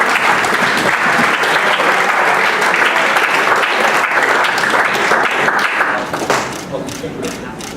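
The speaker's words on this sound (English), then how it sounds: "round of applause." A loud round of applause fills the room at a football club's senior awards night, dense clapping that holds steady before thinning and fading out near the end.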